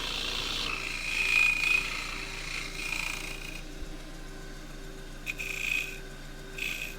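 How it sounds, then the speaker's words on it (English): A spindle gouge shear scraping the outer lip of a small bark-rim wooden bowl spinning on a lathe, a thin hissing scrape in short passes over the steady hum of the machine. "Little shear scrape on the outer lip there"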